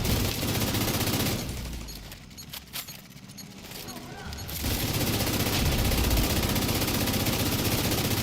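Sustained automatic gunfire in The Division 2 video game roars loud and continuous, breaks off briefly into a few scattered shots, then resumes as a dense, steady burst.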